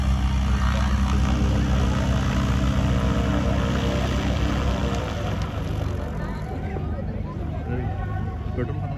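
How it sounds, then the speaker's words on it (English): Loud low rumble of a small private jet taking off nearby at the Wings India 2024 air show, engine roar gradually fading as it moves away. "One private jet, a small private jet taking off."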